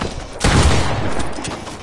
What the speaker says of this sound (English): Sniper bullet just flew right past us there.